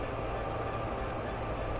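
A steady, continuous rumble of a freight train at Sherman Hill in Train Sim World 2, a smooth low drone with no distinct clacks and no voices.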